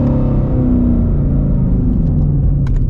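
Shelby GT350 with catless long tube headers downshifting in sixth gear: a loud, close, continuous deep exhaust rumble that stays steady throughout, with no one speaking.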